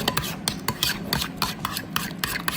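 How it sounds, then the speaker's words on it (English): Spoon scraping and clinking against a bowl while hamburger sauce with pickle juice is stirred, a steady run of short close scrapes and taps with no talking. "We're going to stir this together."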